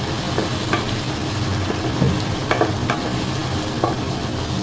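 Garlic and tomato stirred in a hot pan while cooking chicken tinola sizzle steadily up close, with scattered scrapes and taps from the stirring spoon.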